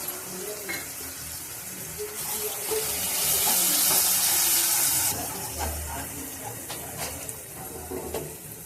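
Coriander, cumin, turmeric and chilli powders frying in a pan, a soft steady sizzle with a hissing swell in the middle and faint stirring scrapes, close and fairly quiet.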